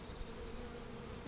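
Honeybees from a hive of about 22,000 swarm close around the keeper during a hive check, a dense, steady buzzing hum that fills the whole short moment.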